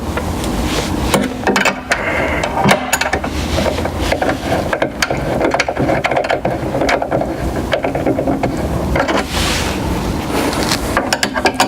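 A 17mm spanner works loose a cylinder clamp pivot bolt, giving continuous close ratcheting clicks and metallic scraping with dense rattling, loud and steady throughout, with no talking.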